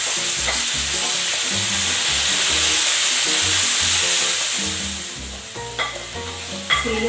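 Vegetables for ginisang gulay sizzle loudly in a hot pan, with repeated scraping stirs of a utensil breaking through the steady frying hiss, the sizzle easing slightly toward the end.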